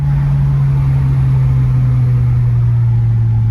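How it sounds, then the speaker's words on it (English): A turbo 2JZ-powered Lexus GS300 with an open downpipe drones loudly and steadily from inside the car, a deep continuous engine tone holding nearly level. "So loud open downpipe"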